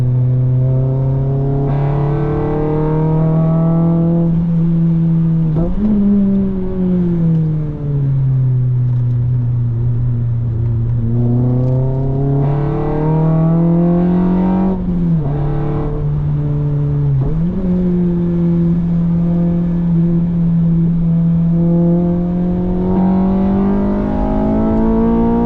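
A Honda Civic FN2 with a K24 engine revs hard and steadily with no talking, its pitch rising and dipping several times as it climbs through the rev range and shifts character at the VTEC crossover.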